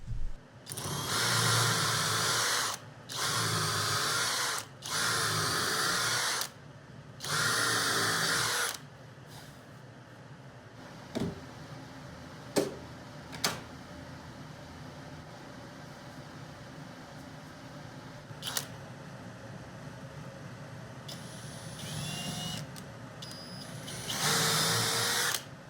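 A power drill drives bolts into the front of a 2x4 workbench, with four loud, even bursts of whirring and a final burst after a long quieter stretch of faint clicks and handling knocks.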